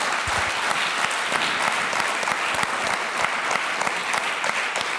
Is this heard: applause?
yes